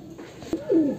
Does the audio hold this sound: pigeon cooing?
yes